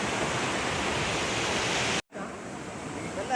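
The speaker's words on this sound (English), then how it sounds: "This down there is a waterfall." Waterfall in a shola forest in North Kodagu, a steady broadband rush of falling water that holds loud and even, cut by a brief dropout before resuming.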